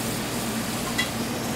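A potato is lifted out of hot frying oil and gives off a steady, fairly loud sizzle, with a faint clink of metal partway through.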